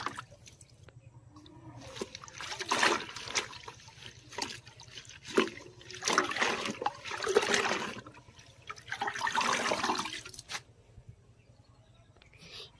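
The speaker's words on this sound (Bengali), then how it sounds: "এবার দেখো কল থেকে জল নিয়ে সেই জলে আবার ধোবো।" Fresh coriander leaves being rinsed in tap water, with several bursts of splashing and swishing liquid at close range over a low background hum, with quieter drips between.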